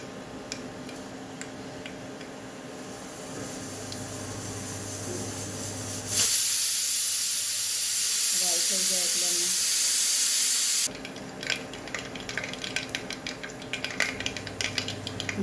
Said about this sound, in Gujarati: એના માટે મેં તેલ લઈ લીધું છે. એમાં આપણે રાઈ એડ કરીએ.